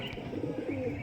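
A male pigeon coos with a low, rolling, continuous call, close and clear, with no voices over it.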